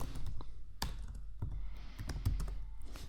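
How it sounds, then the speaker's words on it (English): Someone types on a computer keyboard, entering an employee name into a Google Sheets cell, with a quick irregular run of soft clicking keystrokes close by, heard alone. "So let's say if we write Jessica Davis"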